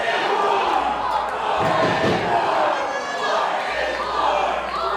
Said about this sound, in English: And you hear the crowd chanting for Boar